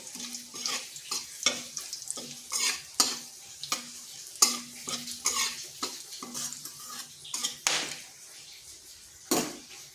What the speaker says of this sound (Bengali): ফোড়নে দিয়ে দিয়েছি একটা তেজপাতা একটা শুকনো লঙ্কা কয়েক টুকরো দারচিনি এলাচ আর একটা লবঙ্গ আর গোটা জিরে